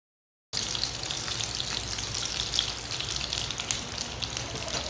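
Aloo tikki fry in a pan over low heat, starting after a brief silence with a steady, close sizzle full of fine crackles and small pops that goes on without pause.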